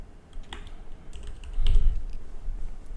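Close keystrokes on a computer keyboard in a few scattered taps and short clusters, light and clicky over a low steady hum, with no one speaking.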